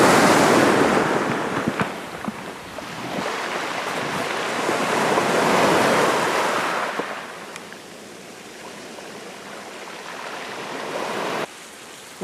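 Winter ocean waves break and wash up a black sand beach in steady loud surges, with broadband roar fading somewhat in the latter half, wind buffeting the microphone throughout.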